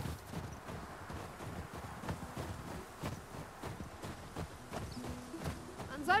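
Steady clip-clop of horse hooves at a walking pace in the video game The Last of Us, regular and fairly close, with faint background noise throughout.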